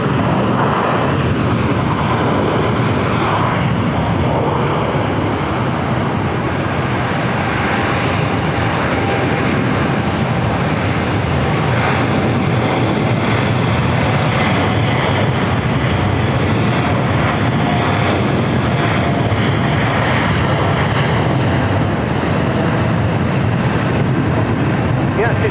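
Jet airliner arriving at LAX, a continuous loud broadband roar that persists for the whole stretch with a faint high whine on top.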